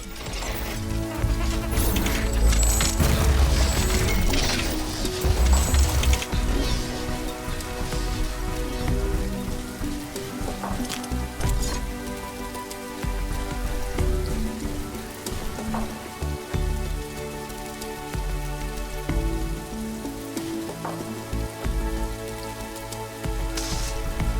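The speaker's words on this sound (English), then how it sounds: "It's raining." Rain in The Riftbreaker video game patters densely and steadily on surfaces, a loud continuous wash with scattered droplet hits and low rumbling underneath, heard alone throughout.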